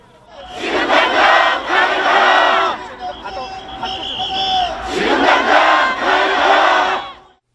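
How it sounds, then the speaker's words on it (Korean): A large crowd of citizens outside the National Assembly shouts in loud rhythmic chants demanding the president's impeachment, two strong bursts separated by a quieter stretch of mixed voices and babble. "탄핵을 요구하는 시민들의 함성 소리가 크게 울려 퍼집니다."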